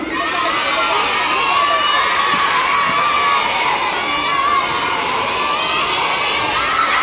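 A large crowd of children at a children's theatre show shouts and cheers together, loud and sustained, a dense wall of excited voices that barely lets up.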